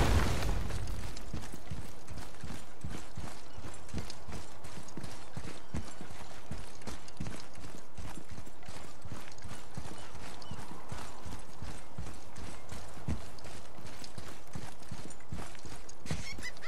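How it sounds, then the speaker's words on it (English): Horse hooves gallop in the video game God of War, a fast and steady run of clip-clop beats heard up close over a low rumble, with a few mechanical thumps mixed in. "Once more to the horse."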